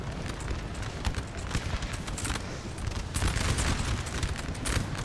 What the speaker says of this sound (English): I think they're firing canister as well, these 6-pounders, right into the flank of the Spanish here